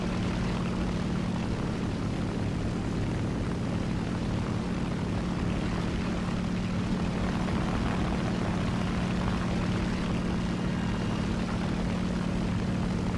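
A Swedish J21 propeller aircraft drones in a video game, its engine a steady, even hum with a low buzzing tone holding unbroken at moderate level throughout.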